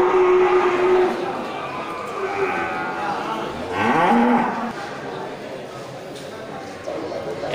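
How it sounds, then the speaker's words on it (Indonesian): Cattle at an Indonesian livestock market, where large Limousin fattening cattle are up for sale, give long, loud moos rising and bending in pitch, mixed with the murmur of a busy crowd and someone talking. "Ya, tidak bosan-bosannya kita melihat sapi besar ini."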